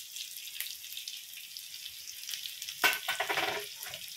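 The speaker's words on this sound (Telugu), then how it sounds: "ముక్కలు అయితే ఆల్మోస్ట్ బాగా ఫ్రై అవుతున్నాయి" Chicken pieces coated in chili powder fry in a pan with a steady soft sizzle. Partway through, a sudden louder burst of crackling and stirring flares up close by, and no one speaks.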